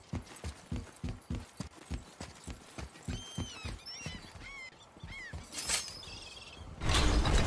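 Horse hooves clip-clop in the God of War video game, a quick steady trot that fades into lighter rustles, a few short chirps and a louder burst of wind or movement at the end.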